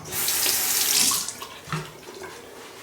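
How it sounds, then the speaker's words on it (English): A razor is rinsed under a running bathroom tap, a steady close gush of water with a splash as the blade passes through, then tapering off. "Now we're gonna hit the back one more time after I rinse this thing out."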